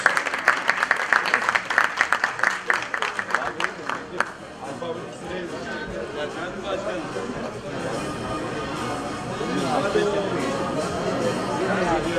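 Audience applause at a Sakarya 2023 sports awards ceremony as a Balkan champion cyclist and coach are called to the stage: dense clapping from a crowd, loudest at first, then settling into a steady murmur of crowd noise and chatter.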